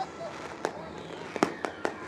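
Weekly fireworks display at Eagle Raceway, a dirt speedway during a RaceSaver sprint car event, heard as a few faint, sharp pops spaced out under a commentator's voice.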